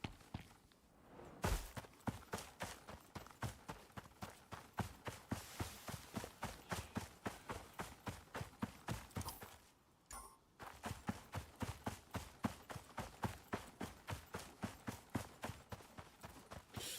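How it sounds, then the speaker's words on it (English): Steady rhythmic footsteps in the survival video game ICARUS, a long run of regular thudding steps with a brief pause near the middle, fairly close and alone with no talking. "Thought I heard some weird footsteps."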